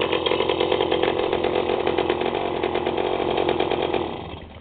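A moped engine newly mounted on its frame runs on its first start with a loud, close, buzzing drone, holding steady before easing off slightly at the end.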